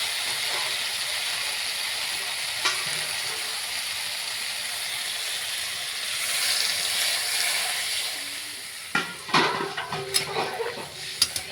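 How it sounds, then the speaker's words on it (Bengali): Water poured into spices frying in a pan for a rohu fish curry sets off a loud, sustained steamy hiss, which then gives way to clattering stirring and scraping in the pan. "এখন জল দিয়ে দেবো।"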